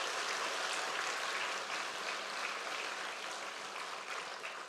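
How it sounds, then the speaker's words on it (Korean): Church congregation giving a round of encouraging applause for the female deaconesses, a dense, even patter of many hands that fades slightly toward the end, no talking. "우리 권사님들에게 우리 격려의 박수를 보내겠습니다."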